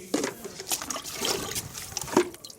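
Leftover curry liquid poured onto garden plants, an uneven close splashing trickle with a few louder spurts, and a faint voice in the background.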